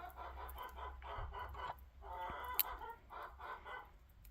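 Chickens clucking outdoors in snow, a flock of backyard hens giving repeated soft clucks in short bursts, fairly quiet and close, with no talking.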